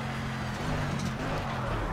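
Racing car engine in a video game, a steady droning tone held throughout at constant loudness, with faint voice-like texture underneath.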